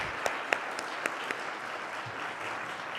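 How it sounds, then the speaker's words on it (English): An audience at an international conference on love and service applauds in a short burst of scattered claps, moderately quiet and fading after a few seconds. "So give a round of applause to them."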